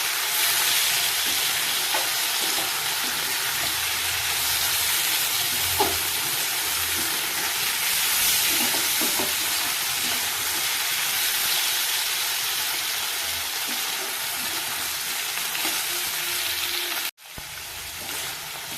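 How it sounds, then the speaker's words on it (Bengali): Flat beans (shim) frying in a pan give a steady, loud sizzle and hiss with occasional soft stirring clicks. It runs unbroken for most of the clip, then cuts out abruptly near the end. "সিমটা ভাজা হয়ে গেছে আমি এবার এটাকে ঠান্ডা হতে দেবো"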